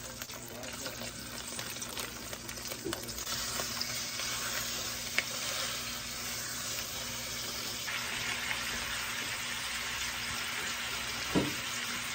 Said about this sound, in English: I just do a small jar and I melt it in my pan.